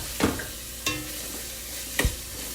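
Diced carrots frying with onion in a pan, a soft steady sizzle broken by a few scraping stirs from a utensil, close and fairly quiet, with no talk.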